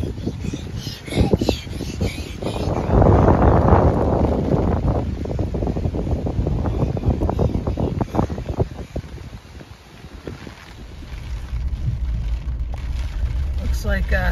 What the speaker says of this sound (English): just now starting to get windy